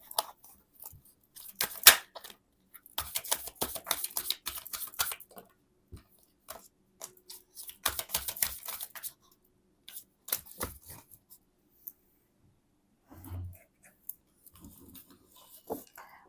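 Tarot cards are shuffled and drawn by hand in dense bursts of riffling, flicking and papery slides, close up, separated by quiet pauses with a few soft taps and no talking.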